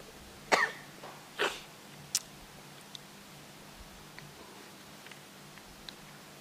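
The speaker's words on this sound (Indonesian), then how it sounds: "Lama tak kuliah, jadi batuk." A person coughs twice in quick succession, close and fairly loud, during a live Islamic lecture, followed by a few faint clicks in a quiet room.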